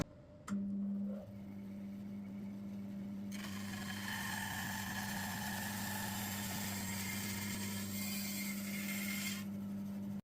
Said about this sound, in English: We're going to cut it out at the bandsaw and pray